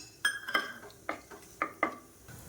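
Whole cinnamon, cloves, cardamom and bay leaf frying in hot oil in a cooker, with several sharp metallic clinks of a utensil against the pot spaced irregularly over a faint sizzle, close and fairly quiet, no talking.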